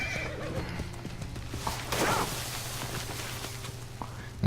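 Horse neighing and whinnying in the Assassin's Creed Origins video game, a clear, near whinny with soft clip-clop of hooves and faint game ambience around it.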